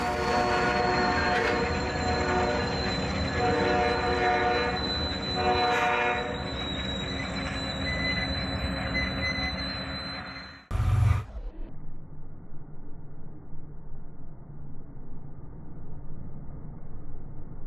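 A train roars past close by with a loud, sustained horn blast, then the rumble cuts off abruptly, leaving a low, quieter hum.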